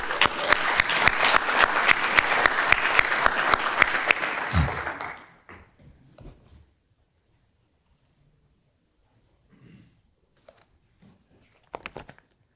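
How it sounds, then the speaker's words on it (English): An audience at a city State of the City address applauds loudly and densely for about five seconds, then fades into quiet with only scattered faint rustles and a few stray claps. "they deserve another round of applause."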